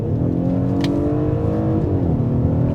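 A 2021 Audi SQ5 accelerates hard from 40 mph while the transmission holds before a kickdown downshift, giving a loud, continuous engine drone that rises in pitch and then shifts near the end.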